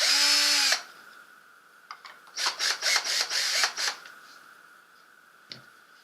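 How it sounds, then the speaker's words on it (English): A cordless power drill loosens screws on the back of a turkey fan mounting plaque. It gives a steady whine, then several short trigger bursts in quick succession and one last brief spin, close and loud against a quiet room. "We're going to loosen those up with the drill."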